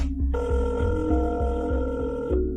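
A telephone rings on the other end of a line right after a number is dialed, heard as one long, steady electronic ring over a low, pulsing rhythmic backdrop, with no talking.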